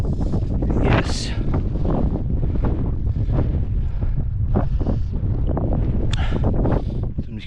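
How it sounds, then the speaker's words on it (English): Strong wind buffets the microphone on the snowy summit of Ben Narnain in the Scottish mountains, loud gusty roaring and rumbling that surges and eases throughout, alone without talking. "You can hear that wind."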